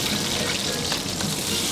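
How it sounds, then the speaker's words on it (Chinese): Bird's eye chili, scallion and ginger sizzle in hot oil in a wok, a steady soft hiss of frying, fairly faint and continuous. "咱们现在开始把小米辣、葱姜搁用油爆一下"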